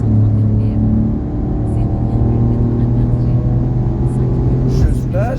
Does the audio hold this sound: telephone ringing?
no